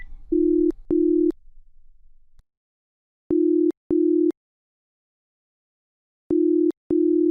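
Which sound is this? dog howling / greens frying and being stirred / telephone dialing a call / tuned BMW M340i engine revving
telephone dialing a call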